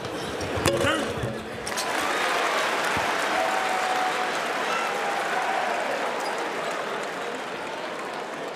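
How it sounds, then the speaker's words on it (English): A crowd applauds at a college basketball game between UAB and NC State in the Lenovo Center, a broad sustained roar of clapping and cheering after a brief thump at the start. "Pretty good crowd tonight here at the Lenovo Center"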